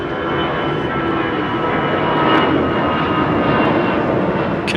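Turkish Airlines Boeing 777 jet on a touch-and-go at London Heathrow, a loud steady engine roar with a broad rushing hiss, constant throughout and close.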